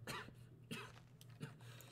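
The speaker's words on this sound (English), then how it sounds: "I've just had a weird cough like the past month." A person coughs and clears the throat in three short, quiet bursts, spaced evenly with a faint steady hum underneath.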